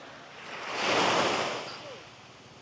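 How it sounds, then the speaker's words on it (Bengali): Sea waves roaring at Saint Martin's Island, a broad wash of surf that swells to a peak mid-clip and then eases back, with steady wind noise across the microphone. "সমুদ্রের গর্জনটা আমার অনেক প্রিয়।"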